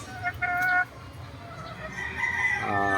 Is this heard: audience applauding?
no